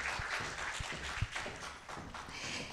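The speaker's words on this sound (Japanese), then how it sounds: "大きな拍手をお願いいたします" Applause from an audience at a Nagasaki keynote session on citizen diplomacy and a world without nuclear weapons, soft scattered clapping with a few distinct claps, faint and somewhat distant.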